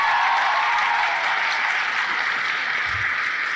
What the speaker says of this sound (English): can we get another round of applause for our MC tonight, Kate Callahan?